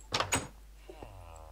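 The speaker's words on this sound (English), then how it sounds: "Sorry for smashing a door into your face." A Minecraft door clacks shut twice in quick succession, two short, sharp knocks close together, followed by a faint trailing thud and near silence.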